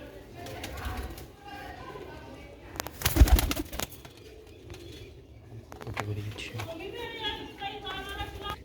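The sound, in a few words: pigeons cooing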